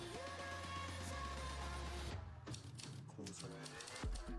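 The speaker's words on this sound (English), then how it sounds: "I have typewriter sounds on." Typewriter-style sound effects triggered by typing on a computer, a run of light clacks under a talking voice, with sharper scattered clicks in the second half.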